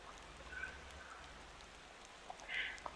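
Rain falls steadily in the driving game Motor Town, a faint, even patter under a low engine rumble, with a few brighter droplet ticks near the end.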